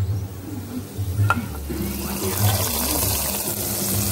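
Fried ingredients are stirred into a simmering pot of chana dal payasam, giving a soft sizzle and wet scraping over a low background hum, with faint voices.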